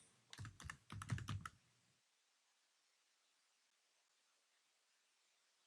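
Quick bursts of keys clatter on a computer keyboard as a search is typed, two short flurries over about a second, close and crisp, followed by several seconds of near silence.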